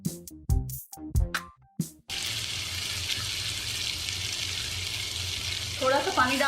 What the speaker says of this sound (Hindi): अच्छी तरह फ्राई करेंगे।